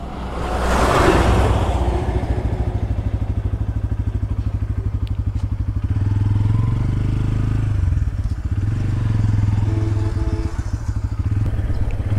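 A Bajaj Pulsar N160 motorcycle rides along with a low, steady engine drone and a rapid exhaust pulse, and a brief rushing swell comes through near the start.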